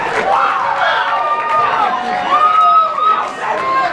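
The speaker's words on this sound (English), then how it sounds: "we got a big crowd out for this one here" A large crowd gathers at a running camp's mock Olympics event with teams called to a stage, producing a steady, close babble of many overlapping voices with scattered shouts and cheers throughout.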